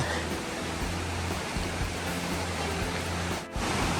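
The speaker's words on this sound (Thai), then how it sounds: "ได้ยินเสียงน้ำตกนะเป็นเสียงธรรมชาตินะครับ" Steady, dense rushing water roars without pause, a broad constant wash from nearby Haew Narok waterfall in Khao Yai, Thailand, with a brief dip near the end.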